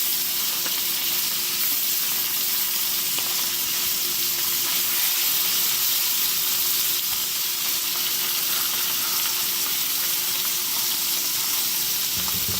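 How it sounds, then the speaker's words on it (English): Fresh mushrooms fry in butter with steak seasoning, giving a steady, close sizzle with a bright hiss that holds evenly throughout and has no talking over it. "I'm just going to let them cook, kind of caramelize them in the butter and the steak seasoning."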